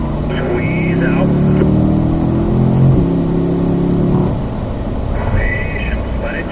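A Corvette engine accelerates on a race track in third gear, a loud steady roar that holds high and then eases slightly, heard from inside the car with wind and road noise.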